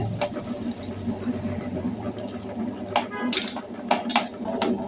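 A wet grinder grinds soaked urad dal into batter with water, giving a continuous mechanical whirring and rattling hum broken by occasional sharp clinks and scrapes.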